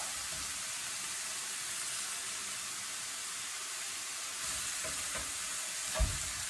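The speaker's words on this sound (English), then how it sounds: "lower the heat, let that stuff really simmer down" Food sizzles and simmers steadily in a pan over low heat, a continuous broadband hiss with a few faint clinks near the end.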